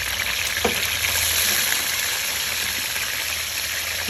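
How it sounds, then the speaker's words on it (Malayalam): Beef frying in oil in a pan, a steady loud sizzle close by, continuous and even throughout, with a faint stir near the start. "പാത്രത്തിൽ എണ്ണ ഒഴിച്ച് ഇറച്ചി നമ്മൾ ഫ്രൈ ചെയ്യാൻ പോവുകയാണ്."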